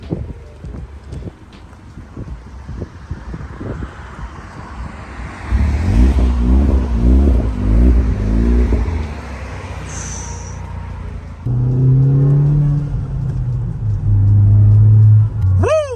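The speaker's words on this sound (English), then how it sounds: "This exhaust sounds so freaking good." Kia Forte GT fitted with an MBRP axle-back exhaust, heard close up: a low idle, then several quick throttle blips, a held rev with a deep rumble, and more revving toward the end.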